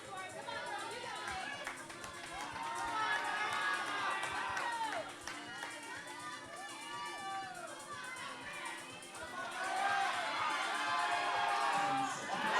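Spectators cheer and shout encouragement for a climber at the 2018 Mesa Rim Pro-AM, a USA Climbing National Cup event, rising in swells of excited voices and whoops over steady crowd chatter.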